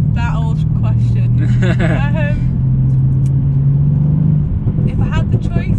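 Mercedes C63 AMG V8 idling with a steady deep rumble underneath, people talking over it at close range throughout.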